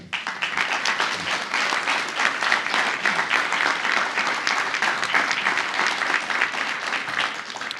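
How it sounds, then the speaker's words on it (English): A crowd at a 100th anniversary gala and installation gives a sustained round of applause for volunteer leaders, many hands clapping loudly and steadily for several seconds. "So if I could please get a round of applause for them."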